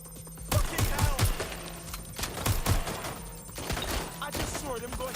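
Bursts of automatic gunfire ring out in a Watch Dogs: Legion shootout, a few sharp volleys over busy game ambience, with voices speaking in between.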